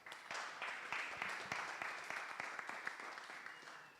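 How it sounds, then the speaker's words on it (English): A conference audience applauds presenters: a fairly quiet, brief round of clapping from a modest crowd, with distinct individual claps over a soft patter that tapers off. "So big round of applause."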